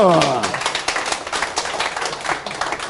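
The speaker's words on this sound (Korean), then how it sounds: "박수." A lecture audience at a Saturday talk applauds, with dense clapping that starts after a voice trails off and then carries on steadily and fairly loud.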